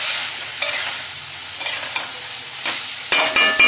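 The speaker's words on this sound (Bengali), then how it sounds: "দেখো ভালো করে কষিয়ে নিচ্ছি মাংসটা আলুটা মশলার সঙ্গে" Meat and potatoes sautéing with spices in a pan give a steady close sizzle, broken by several sharp scrapes and clanks as the mix is stirred, with no voices.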